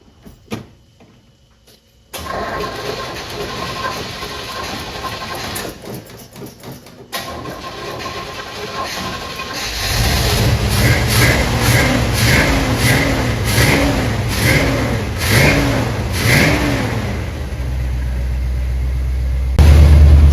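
An engine cranks, fires and settles into running: a quiet start and a mechanical clunk give way to a louder, steady engine note with rising and falling revs that carries on to the end.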